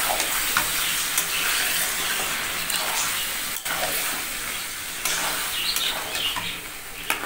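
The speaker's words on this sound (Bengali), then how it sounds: "আমি মশলাটাকে কষিয়ে নিই এইভাবে কিন্তু আমি মশলাটাকে কষিয়ে নেব" Spice paste is stir-fried in a pan, giving a steady loud sizzle with scraping stirs and occasional sharp clicks of the spatula, close up with no talking.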